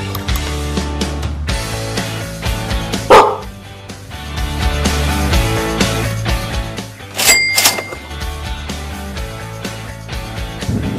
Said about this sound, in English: When I got to this house, I saw that there were some guard dogs,